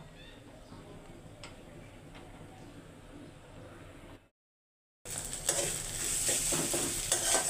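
Leafy greens, stalky data shak, frying in a home kitchen pan. A quiet stretch and a brief silence give way to a loud, steady sizzle with stirring scrapes.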